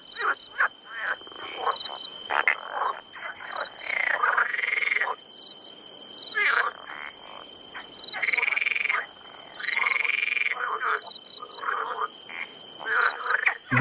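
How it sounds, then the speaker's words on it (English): A chorus of frogs croaks in repeated pulsing bursts, each a buzzy, rattling trill lasting a second or two, broken by short pauses over a steady high insect-like whine, fairly close and continuous. "Frogs croaking."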